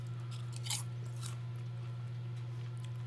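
Crunchy roasted Brussels sprout chips being chewed close up, with a couple of brief crisp crunches over a steady low hum and no talk.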